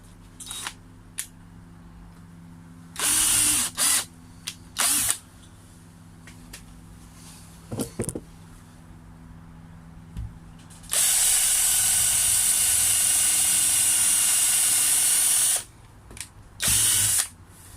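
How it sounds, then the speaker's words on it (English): Bursts of a power drill driving screws into wood in short pulses, with one long sustained run near the end, plus clicks and handling noises in between, while strengthening a koi pond. "It's always good not to drill right through the second piece of wood"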